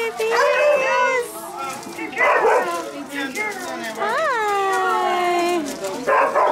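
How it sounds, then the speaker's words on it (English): Alaskan sled dogs bark, yip and howl in loud, overlapping bursts close by, with excited voices talking among them. "The Alaskan Sled, doggies!"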